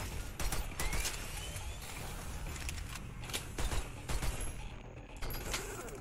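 Enemy gunfire in the video game SYNTHETIK: Arena, with repeated sharp shots and bursts that crackle over a dense, noisy game mix, steady and fairly loud throughout.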